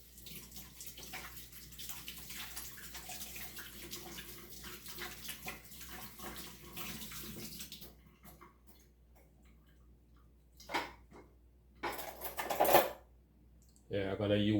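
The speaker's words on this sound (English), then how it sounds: "First, I'm gonna wash my hands." Hands are washed under a running kitchen tap, water splashing and streaming in an uneven patter that thins to brief bursts and stops near the end, fairly close and quiet.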